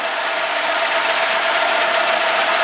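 A milling cutter plunges into a metal perforation disc, giving a loud, continuous grinding whine with a steady ringing tone and no pauses.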